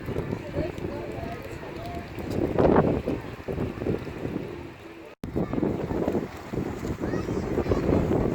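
Steady wind rushes and buffets over a crowded, hot beach in Gelendzhik, roaring loudly into the microphone, with someone talking over it throughout.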